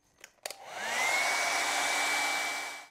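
After a couple of clicks, a hair dryer switches on to dry paint on paper and runs as a steady, close whoosh with a faint whine for about two seconds before cutting off.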